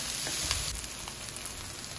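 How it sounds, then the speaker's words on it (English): Garlic and onions sauté in a pan for a Filipino-style picadillo olive beef stew, giving a steady, moderately quiet sizzle and crackle that runs unbroken with no voices. "Add the garlic. Next is the onions. And just sauteed until golden brown."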